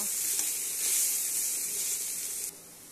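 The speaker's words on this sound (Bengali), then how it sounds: "দেখো এখানে থোড় ভাজাটা কমে এসছে বা ভাজা হয়ে গেছে" Banana stem (thor) fries in a pan with a steady, close sizzling hiss that drops to a softer level near the end.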